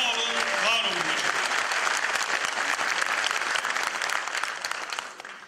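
Sustained audience applause at a political panel in Muğla, opposing a constitutional change to a presidential system, dense and steady throughout before tapering off at the end.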